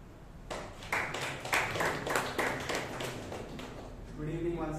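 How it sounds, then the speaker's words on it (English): A small Toastmasters meeting audience claps briefly for the timer, scattered claps under a speaking voice, fading as talk resumes. "Big round of applause to our timer, Toastmaster Shreyas."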